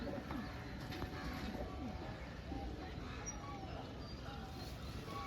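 Pigeons coo softly and repeatedly at a busy pigeon market in Srirampur, a noisy, bustling setting with low background chatter.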